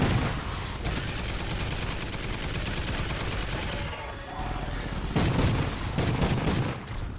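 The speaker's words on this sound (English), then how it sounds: "Let me set a turret here." Sustained rapid gunfire from a sentry turret in Call of Duty: Ghosts Extinction, a dense continuous rattle of shots lasting throughout with louder bursts near the end, mixed with game effects.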